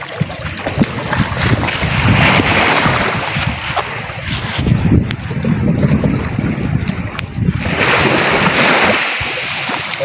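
Strong wind buffets a boat out at sea, steady roaring gusts and microphone wind noise mixed with waves and water sloshing throughout, loud and continuous with no talking.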